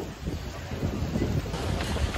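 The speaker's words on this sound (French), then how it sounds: "Le vent, il nous cisaille." Strong stormy wind buffeting the microphone at the start area of the Barcelona half marathon, a rough, loud low rumble that gusts unevenly throughout, with runners' voices faintly underneath.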